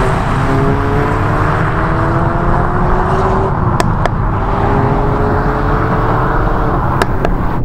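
Loud, steady engine hum from inside a moving 2019 Ford Focus ST, with rising tones as it accelerates and road noise underneath, plus a couple of sharp clicks.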